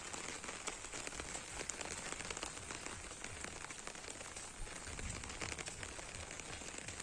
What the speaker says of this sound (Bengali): দেখুন বন্ধুরা, দেখুন বর্ষা হচ্ছে।